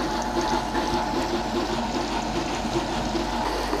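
A 1.5 litre table-top tilting wet grinder churns batter on its own, giving a steady, close whirring and sloshing hum with a wet, watery texture that runs unbroken throughout, with no voices.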